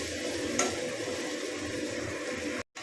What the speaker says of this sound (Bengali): তো এই টেস্ট মেকারটা দিয়ে এই ভেজিটেবলসের সাথে